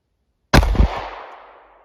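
A single close, loud gunshot from a .380 +P pistol firing an Underwood 90 grain XTP round. It starts with a sharp crack after a moment of silence, then a reverberant tail fades over about a second.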